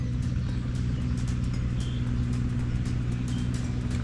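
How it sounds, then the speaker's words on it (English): Engine of a rice planter machine driving through a paddy field, a steady low droning rumble held throughout without pauses, moderately loud and close with no talk. "I think that's a rice planter."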